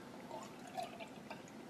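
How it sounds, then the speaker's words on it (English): Milk poured into a freshly washed pitcher beside a Breville Barista espresso machine, a faint soft trickle with small drips and gurgles, quiet and close, no speech. "take our milk, and we're gonna pour it in there until it is under"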